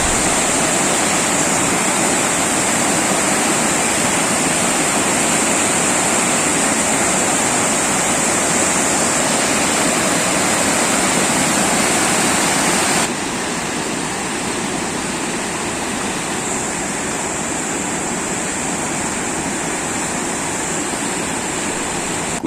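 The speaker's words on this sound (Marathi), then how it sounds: "डोंगरातून आलेले पाणी प्रचंड वेगाने वाहत असल्याने निर्माण होणारा" A fast mountain stream fed by hillside runoff rushes past a forest path near Kundi in Ratnagiri's Konkan region, a loud, steady roar of churning water that never lets up and eases slightly about halfway through.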